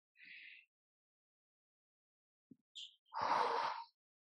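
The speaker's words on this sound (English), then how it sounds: "breathe in with your nose" A calm, guided relaxation breath drawn in through the nose, one soft inhale rising near the end after a brief quieter breath sound and long silence, close to the listener with no talking over it.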